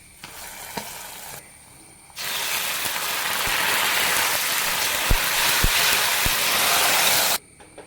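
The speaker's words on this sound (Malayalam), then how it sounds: "ഉള്ളിമുളക് മൂത്ത് വന്നിട്ടുണ്ട് ഇത് കറിയിലേക്ക് ചേർക്കാം" Hot coconut-oil tempering of sliced shallots, dried red chilies and curry leaves is poured into a brinjal and mackerel curry, setting off a loud, sustained sizzle with crackles for about five seconds before cutting off.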